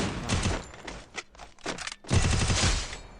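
Rapid gunfire in the mobile battle royale game Free Fire: loud, close bursts of automatic fire in quick rattling volleys, broken by short pauses before a final sustained burst.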